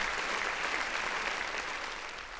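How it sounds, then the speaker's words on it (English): Steady, dense applause fills the whole stretch, a sustained wash of many hands clapping at even loudness, with no voices over it, closing a live-stream talk about a PlayStation showcase. "Round of applause, man. Round of applause."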